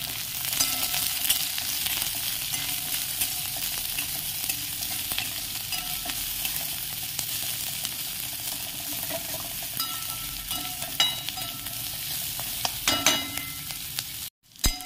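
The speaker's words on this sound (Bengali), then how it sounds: "তো পেঁয়াজটা একটু লাল লাল করে ভাজা ভাজা হয়ে যাবে" Onions frying in a pan, with a steady close sizzle running throughout and occasional scraping stirs, louder clatters near the end and a brief cut just before it stops.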